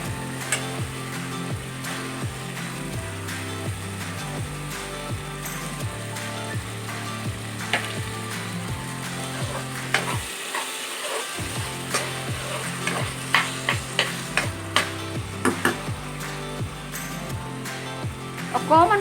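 Tomatoes sizzle and fry in hot oil for an Assamese chicken-with-moringa-leaves dish, a constant crackle broken by repeated scraping stirs and a brief lull midway.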